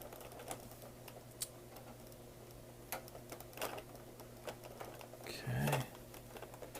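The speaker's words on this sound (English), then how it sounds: "now I'm going to just tighten these down all the way" Small screws are tightened into a Millennium Falcon model kit: sparse light clicks and ticks of a screwdriver on parts, faint and close, with a voice speaking briefly near the end.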